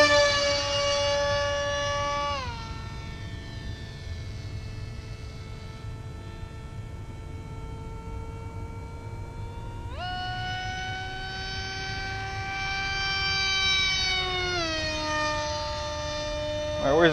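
Small RC sweepwing aircraft flying overhead, its electric motor giving a steady high whine that shifts pitch with throttle, dropping lower mid-flight and rising again near the end, loud and continuous with no talking.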